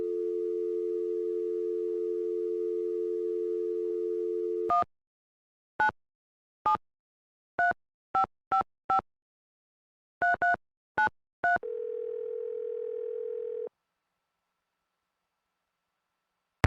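In the video game Nancy Drew: Secret of the Scarlet Hand, a telephone dial tone, then a quick run of touch-tone beeps as a number is dialed, followed by a ringing tone; electronic and clean, no voices.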